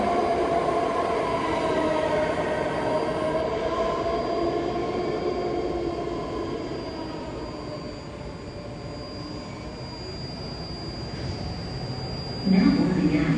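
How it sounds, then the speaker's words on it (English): A 9-car BART yellow line train bound for San Francisco Airport rolls through Colma station, a loud steady rumble of wheels and cars with a faint high whine, easing slightly before a brief station sound near the end. "here goes the 9-car yellow line San Francisco Airport bound train"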